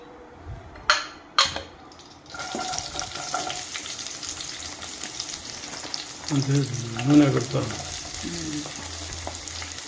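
Oil sizzles and crackles in a pan, starting quietly, then growing into a steady hiss after a couple of sharp clinks, with faint kitchen clatter later.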